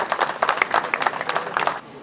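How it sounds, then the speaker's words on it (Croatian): A school audience in Sombor claps for a fourth-grade guitar pupil from the lower music school after his performance of Gaspar Sanz's Villanos, a brisk, fairly close round of applause that fades out just before the end. "Pozdravimo ga jednim aplauzom"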